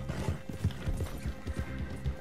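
Horse hooves clip-clop in a steady, near rhythm as a mount trots in a deer-hunting video game, with no voices over it.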